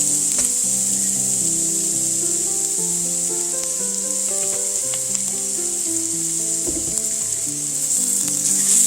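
Celery, onions and carrots sizzle in olive oil in a pan, a loud, steady hiss close by with occasional scrapes and clinks of stirring beneath it, and no voice.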